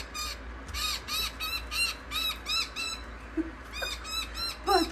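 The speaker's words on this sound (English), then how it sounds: "Oh, she's a cranky bird." An Indian myna bird gives harsh, repeated warning calls outdoors, a series of loud, squawking bursts in an uneven rhythm close by, with no talking over them.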